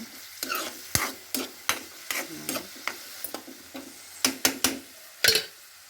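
Onions frying in a pan for a meal maker and capsicum curry, heard as a series of sharp spoon-and-pan stirring clacks over a soft sizzle, close up with no talking.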